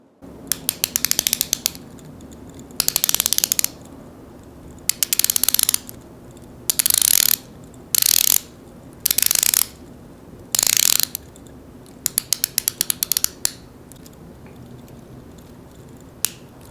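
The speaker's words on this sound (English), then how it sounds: "And so here's some bezel action for you." Rotating bezel on a Longines Hydroconquest 41mm dive watch, crisp close ratcheting clicks in quick bursts separated by short pauses, repeated about a dozen times with no talk.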